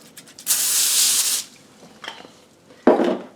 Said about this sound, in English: Put a little baking spray on it